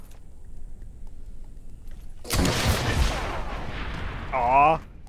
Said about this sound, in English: I thought that rocket would have killed you.